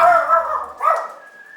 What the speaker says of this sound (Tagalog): Nawawala na naman ng breathing tong aso ko.